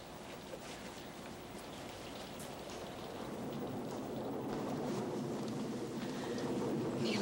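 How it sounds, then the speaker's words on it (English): Heavy rain falling steadily outdoors, a dense hiss that slowly swells louder with no talking. "raining like hell"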